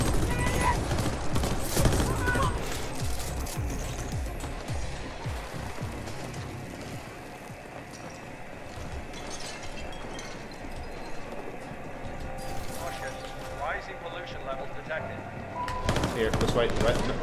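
Dense bursts of rapid gunfire rattle through a firefight in The Ascent video game, loud and continuous with fast repeated shots, with voices talking over the shooting.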